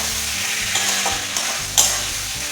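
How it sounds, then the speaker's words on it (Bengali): Masala for chicken and pea ghugni sizzles steadily in a pan with salt and a little sugar, stirred close up, with soft scrapes and a sharper spatula clack near the end. "আবারও অল্প আছে ভালোভাবে সব কিছু কষিয়ে দিচ্ছি।"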